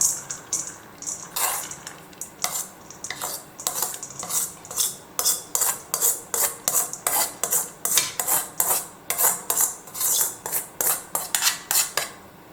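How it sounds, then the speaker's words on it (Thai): Washed sago pearls go into a mixing bowl in a long run of sharp, rhythmic clinks and scrapes, like a utensil striking the bowl again and again. The sounds are close and fairly loud, and no one speaks. "แล้วเราก็นำสาคูที่เราล้างน้ำเสร็จแล้วนะคะ มาใส่ลงในชามผสมค่ะ"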